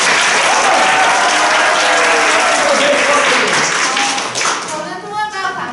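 Classroom applause from students opening an integrated science lesson, a dense, steady clapping wash that holds for several seconds and then thins out toward the end, with some voices mixed in.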